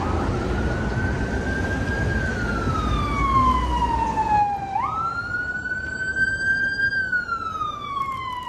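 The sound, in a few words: ambulance siren passing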